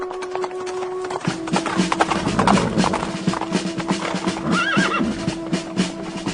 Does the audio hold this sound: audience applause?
no